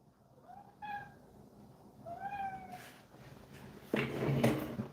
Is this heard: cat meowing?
yes